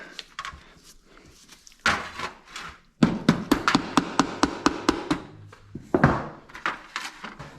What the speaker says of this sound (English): Rubber mallet, #1 used disassembly tool